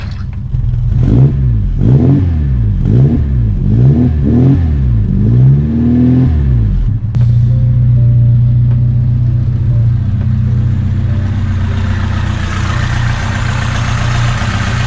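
A 1986 Ford Capri engine warms up: a few quick revs rise and fall at first, then it settles into a steady, loud idle rumble close by.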